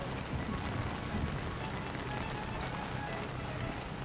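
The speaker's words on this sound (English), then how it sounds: "Man, it's really raining." Heavy rain in the video game Splinter Cell: Chaos Theory, a steady dense hiss of downpour filling the whole stretch at an even level, with no other sound standing out.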